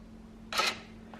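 Steering lock engaging on a 2017 BMW R 1200 GS Adventure Triple Black motorcycle gives one brief mechanical whir-click of about a quarter second, followed by a faint tick, close and moderately quiet with no talk.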